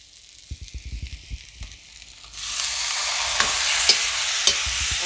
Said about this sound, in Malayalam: ഞാൻ എനിക്കിതാ തക്കാളി ഞാൻ ഇടാൻ പോവുകയാണ്.